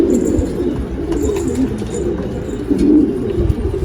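Pigeons coo steadily in low, throaty rolling calls, fairly close, with a continuous murmur of several birds and no talking.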